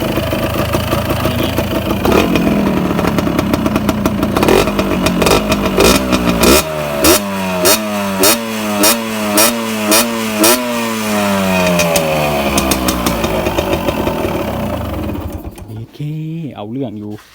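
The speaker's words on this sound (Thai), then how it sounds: "พี่ว่ามันเป็นเสียงอะไรครับเสียงเสียงก้านหรือว่า เสียงก้านเสียงลูกสูบหรือว่าเสียงลูกปืนปลายก้าน" A dirt bike engine runs loud and close, idling, then revving in repeated rising bursts that settle back down, with a rapid knocking from a worn connecting rod, piston or bearing. Someone speaks over the engine.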